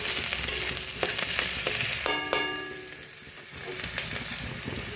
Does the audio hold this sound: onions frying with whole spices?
yes